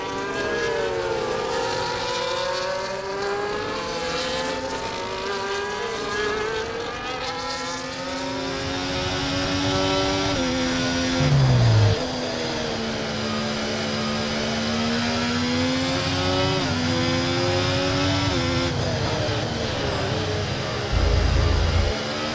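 A Ferrari Formula 1 car in F1 24 screams through high-pitched gear changes and rising, falling engine revs, with a steady roar from other cars close by.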